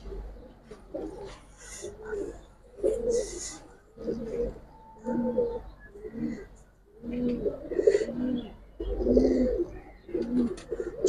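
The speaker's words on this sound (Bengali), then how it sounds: "ভাই অনেক ছটপট কবুতর ভাই।" Pigeons at an outdoor pigeon market selling army, giribaz and colored breeds coo in repeated low, throaty bursts, several birds calling close by over a steady crowd murmur.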